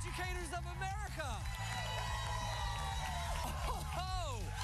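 Crowd at a classroom game show cheering and whooping, loud and steady throughout, with excited shouting voices over the noise.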